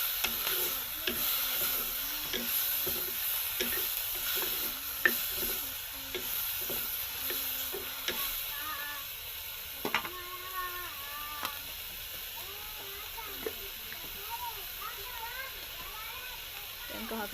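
Fish with chili fries in a pan with a steady background sizzle, while a utensil stirs it, giving repeated scraping clacks and rattles against the pan. A person speaks over much of the cooking.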